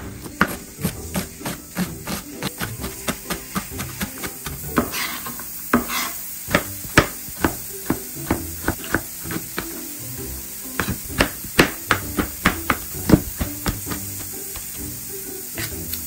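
A knife chops an onion finely on a board, sharp close taps in quick irregular bursts with brief pauses between runs.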